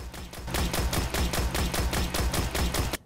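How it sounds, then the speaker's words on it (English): Suros Regime auto rifle firing full auto in the Destiny video game, a rapid, even burst of about a dozen loud, punchy shots per second with the trigger held down, alone and continuous until it stops abruptly. "Now here's how fast you fire when you're just zoomed in and holding down the trigger."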